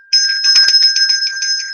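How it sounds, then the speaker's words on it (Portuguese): A small bell rung as a storytelling signal, a bright sustained metallic ring with rapid repeated strikes trembling over nearly two seconds, loud and close with no talk. "Esses sinais podem ser um sino"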